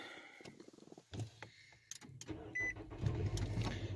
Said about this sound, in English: I'm going to go ahead and start my car.